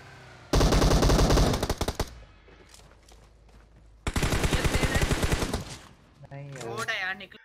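Bursts of automatic gunfire in PUBG Mobile gameplay cut down a bot: a long rapid volley up front, a second sustained burst midway, then scattered shots and game effects, loud and close.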